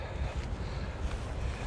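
Wind blowing outdoors along an old coastal road in Scotland, a steady low rumble buffeting a camera microphone, with gusty swells and no voices.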